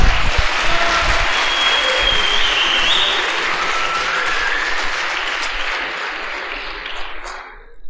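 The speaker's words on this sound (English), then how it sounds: "What's a shame is I have no idea why you clapped." A conference audience at PyCon Argentina 2014 claps in loud, sustained applause that slowly tapers off and then ends abruptly.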